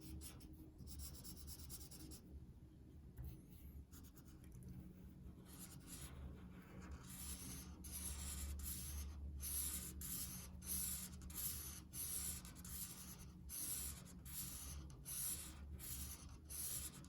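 A pencil or marker colors a drawing of Charmander on paper in a steady, quiet scratching. Rapid short strokes repeat rhythmically through the second half, close up over faint background hiss.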